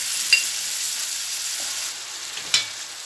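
Chicken sukka masala sizzling in a pan as a little water goes in, a steady close hiss of frying with a couple of sharper spits and bursts, no talking.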